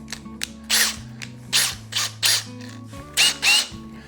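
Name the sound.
drill boring a hole in a cap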